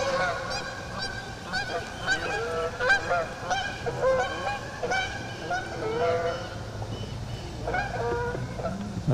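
A flock of geese honks continuously, many overlapping calls close by, loud and busy throughout.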